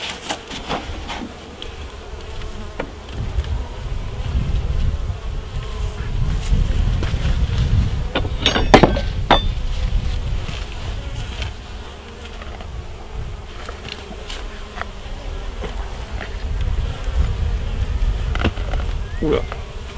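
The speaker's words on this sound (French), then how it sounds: "Bon, en principe, mes abeilles sont sympas." Honeybees swarm and buzz steadily around an opened hive during a March beekeeping check, a dense close drone with brief wind buffets on the microphone and no talk.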